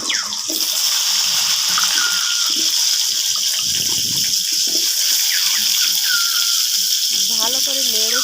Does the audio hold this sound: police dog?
no